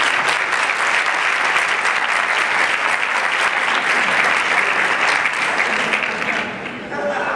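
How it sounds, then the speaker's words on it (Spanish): Sustained applause from an audience at a round-table discussion fills the room, dense and steady before thinning slightly near the end. "Un fuerte aplauso para ellos."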